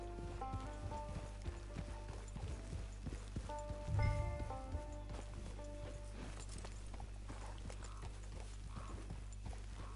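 Horse hooves clip-clop steadily in the Red Dead Online game as a rider approaches camp, the rhythmic steps mid-distance over a low ambient hum with music-like tones and a brief louder thump.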